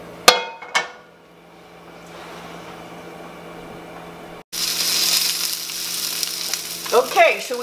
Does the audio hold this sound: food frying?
yes